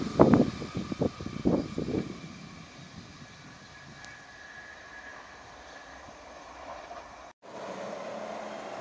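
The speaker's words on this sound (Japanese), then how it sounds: "上り2700系南風号黄色いアンパンマン列車が通過です。" An up-bound JR 2700 series Nanpu limited express in yellow Anpanman livery passes a small coastal station, opening with a few sharp knocks, then a steady low rumble, a brief cutoff and a renewed hum.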